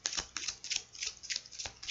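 Tarot cards being shuffled by hand, heard as a quick series of crisp riffling bursts at close range with brief pauses between them, no one talking.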